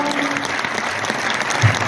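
Steady applause from the audience at a Hindi comic poetry gathering (kavi sammelan) in Hisar, a dense, continuous clapping that fills the whole moment with no voices over it.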